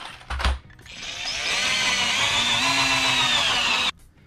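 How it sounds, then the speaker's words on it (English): A power drill runs steadily for about three seconds, driving wood screws into a board for a DIY thru-axle bike fork mount, with a brief thump just before the whine starts and an abrupt stop at the end. "I'm also going to be using these wood screws to put them into the board"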